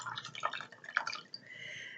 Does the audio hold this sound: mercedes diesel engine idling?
no